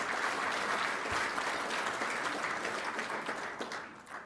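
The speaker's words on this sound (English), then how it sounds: "So a round of applause, please, for our co-sponsors." Audience applause for conference co-sponsors at a climate-policy event, a sustained dense wash of many hands clapping that stays loud and steady before tapering slightly toward the end.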